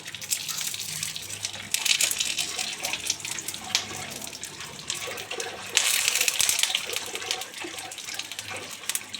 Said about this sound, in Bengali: তেল গরম হয়ে গেছে, এবার আস্তে আস্তে পনিরগুলো দিয়ে দেবো।